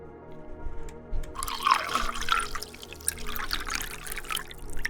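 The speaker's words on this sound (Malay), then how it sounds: "Fill water." In the video game Tales After Midnight The Neighbor, a glass is filled with water, heard as a close, splashy pour and trickle that starts after a quiet moment and keeps running, with low game ambience beneath.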